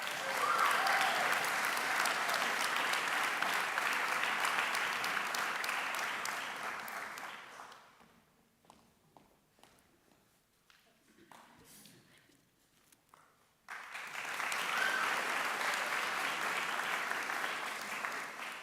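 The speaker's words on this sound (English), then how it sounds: "Let's have another round of applause for our well-deserving group of academic prize recipients" Audience applause at a graduation ceremony for academic prize recipients: loud, dense clapping for about seven seconds fades to a quiet lull with scattered claps, then a second full burst of clapping returns.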